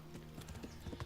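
Horse hooves clip-clopping in the Kingdom Come: Deliverance video game, a steady run of quiet, evenly spaced hoof strikes at a walking pace.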